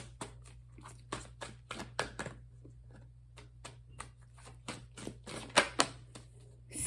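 Tarot cards shuffled and drawn during a reading, a run of sharp papery snaps and flicks in uneven bursts, close and fairly quiet over a steady low hum.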